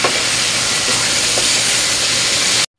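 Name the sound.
stirring chicken with garlic and onion in a hot pan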